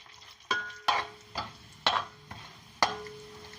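Chana dal and other dals fry in oil, the soft crackle broken by about six sharp, evenly spaced scrapes and knocks of a spoon against the pan.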